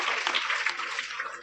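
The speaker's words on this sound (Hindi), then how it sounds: "बहुत बढ़िया, जोरदार तालियां एक बार।" Dense, steady applause from a seminar audience at a motivational talk held in a school, a continuous wash of many hands clapping at once, fairly loud and close, with no voices over it.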